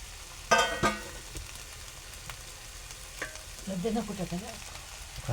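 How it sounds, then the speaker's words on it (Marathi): Sliced ridge gourd and potato sizzle in a pan, with a couple of sharp clatters near the start and a burst of bubbling hiss as water is poured in, no voices. "आणि आपण याच्यात पाणी ॲड करूया"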